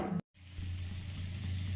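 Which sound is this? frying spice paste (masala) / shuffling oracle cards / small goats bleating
frying spice paste (masala)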